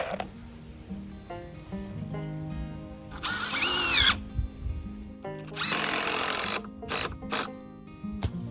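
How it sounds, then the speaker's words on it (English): A power drill driving screws into boards while building a backyard bird sanctuary: two sustained, close whirring bursts and a few short trigger pulls, separated by quieter handling noise. "when you see somebody screw something in and it sucks those boards together at the end"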